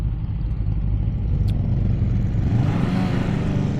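QJMOTOR SRK800RR motorcycle engine running close by, a steady rumbling idle that swells slightly toward the end with no talking.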